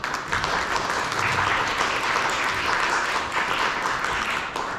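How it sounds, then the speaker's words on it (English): A conference audience at a panel discussion on Ukraine and East Central Europe applauds, a dense, continuous patter of many hands clapping at a steady, fairly loud level with no talk over it. "So may I ask for your applause now."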